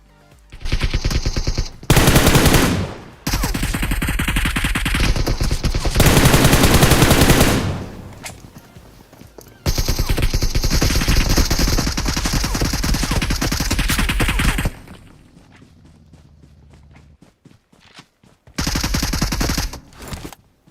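Sustained automatic gunfire from the mobile battle royale game PUBG Mobile, loud and close, in long rapid bursts separated by short pauses and a quieter stretch near the end before a final burst.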